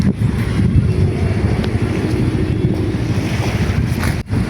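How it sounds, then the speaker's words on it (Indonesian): Outdoors during kite flying, steady wind buffets the microphone in a loud, continuous low rumble with gusty surges and no break except a brief dip near the end. "Ada angin"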